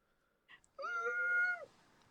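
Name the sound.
cat meowing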